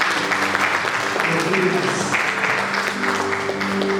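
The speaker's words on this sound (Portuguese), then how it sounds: "Aplauda Jesus bem forte." A church congregation applauds in a steady, dense wash through the whole stretch, blended with sustained musical tones and voices underneath.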